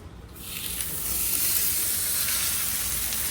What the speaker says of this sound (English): Give it a nice sizzle.